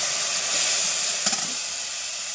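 Tomatoes sauté in a hot pan with a loud, steady hiss and sizzle, a brief stir-like rustle partway through.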